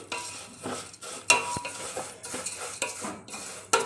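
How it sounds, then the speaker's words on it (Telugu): Vermicelli stirred and fried in a pan: repeated close scraping strokes of a spoon against the pan in an uneven rhythm over a light sizzle, with occasional sharp metallic clicks and no voice. "ఇలా కలుపుతూ సేమియాని వేయించుకోవాలి"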